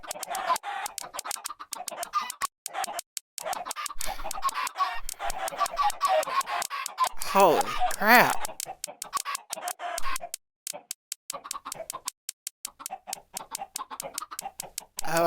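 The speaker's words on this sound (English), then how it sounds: "I guess that's the chicken sounds that are just" Dense chorus of many chickens clucking nonstop in Minecraft, an overloaded farm of fowl making a loud, layered racket, with a brief crowing call midway and a single short exclamation from a man.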